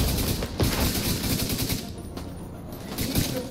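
An assault turret fires in The Division 2 in sustained rapid bursts of close, loud automatic gunfire with short gaps between them.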